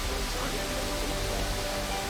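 Waterfall in Costa Rica pouring over a cave that sits behind its curtain of water, a dense, constant roar filling the clip at even strength with no breaks or other sounds.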